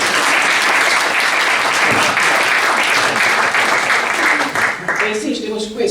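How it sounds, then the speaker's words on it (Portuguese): An audience at a poetry and music event claps loudly and continuously at close range, the applause thinning near the end as a voice begins speaking. "Podem bater palmas."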